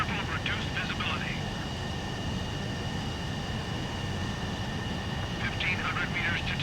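A jet aircraft engine roars steadily during a nighttime aerial refueling approach in Ace Combat 7, a constant dense drone with a faint high whine, while radio voices talk over it near the start and end.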